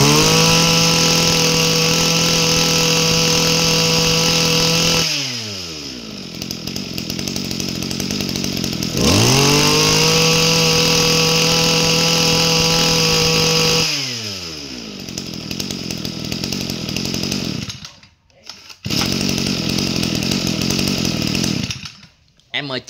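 An Echo Kiwit brush cutter with a 26 cc two-stroke engine and 34 mm bore runs loud and close, revving up to a high whine and dropping back to idle several times, with someone talking over it.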